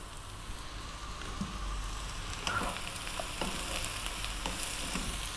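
Sliced mushrooms and bell peppers stir-frying in a pan over lively heat, giving a steady, close sizzle with occasional clinks and scrapes from stirring and no talking.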